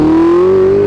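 A Ferrari 488 Spider engine revs with a loud, close exhaust note, a smooth tone rising slightly in pitch over under a second. No voices are heard.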